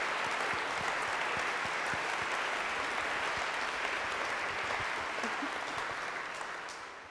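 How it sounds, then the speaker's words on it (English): A dense, sustained round of audience applause after a lecture on molecules, neurons and morality, steady and full throughout before tapering off at the end. "Can we give another round of applause"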